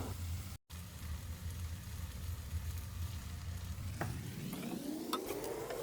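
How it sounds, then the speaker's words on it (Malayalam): Fried chicken pieces are stirred into biryani masala sizzling in a pan, giving a constant close frying hiss, with scraping and stirring strokes growing louder toward the end. "നല്ലോണം ഒന്ന് ഇളക്കി ഒന്ന് നമുക്കൊന്ന് മസാല എല്ലാ ഭാഗത്തും പിടിക്കാവുന്ന രീതിയിലൊന്ന് ഇളക്കി വെക്കാം"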